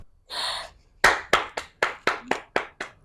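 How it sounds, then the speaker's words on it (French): A small audience claps in a short burst of separate, sharp hand claps in an uneven rhythm, heard close and alone after a brief breathy sound at the start. "Je vous applaudis."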